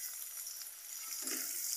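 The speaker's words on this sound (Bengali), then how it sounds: "আলু ভেজে তারপর ফুলকপিগুলো ভেজে নেব।" Potatoes salted and dusted with turmeric fry in a pan, giving a faint, even hiss with a slight rise in crackle near the end.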